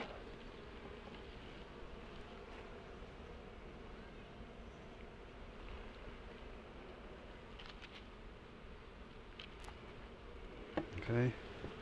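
Continuous low buzzing of many honey bees at a hive, a steady dense drone, with a few brief knocks and rustles near the end.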